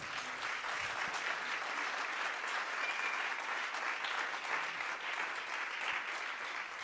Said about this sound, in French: merci d'applaudir Louis à la basse.